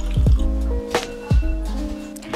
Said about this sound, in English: I just went ahead and cleansed my face.